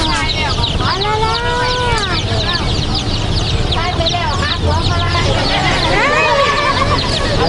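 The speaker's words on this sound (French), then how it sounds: "Et à côté, on a des petits poussins. Des poussins de couleur." Coloured chicks at an outdoor market in Kaset Wisai, Isan, chirp constantly and shrilly in a dense chorus, close and loud, with market bustle underneath.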